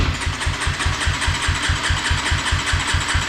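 A cold KTM motorcycle engine cranks over with the stop button held so it cannot fire, producing a fast, even chugging rhythm of starter pulses that continues steadily and fairly close, with no voices.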